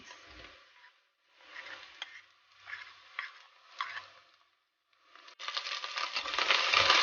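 Ginger garlic paste and green chilies hit golden browned onions in a pan for aloo matar pulao: scattered scraping stirs and light clinks, a brief pause, then a loud burst of steady sizzling as the paste goes in.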